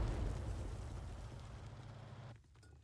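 A 105 mm leFH18B2 self-propelled artillery gun in a tank video game fires a shell that explodes, a loud low rumbling blast that decays steadily before cutting off abruptly near the end, with no talk.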